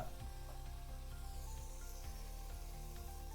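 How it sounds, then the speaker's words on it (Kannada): Spiced masala paste frying in a pan for vegetable pulao, a steady close sizzle with faint scraping stirs, no talk. "ಈಗ ಕಂಪ್ಲೀಟಾಗಿ ಫ್ರೈ ಆಗಿದೆ ಮಸಾಲೆ"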